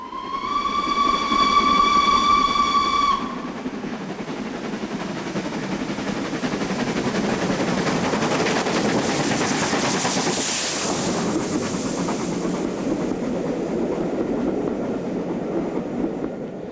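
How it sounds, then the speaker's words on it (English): A special steam train on the West Highland Railway climbs a grade, opening with a loud sustained whistle blast, then a steady labouring chuff and rumble of the locomotive and carriages that stays strong and close throughout. "Here we see a special steam train chartered by railway photographers climbing up towards Carrara"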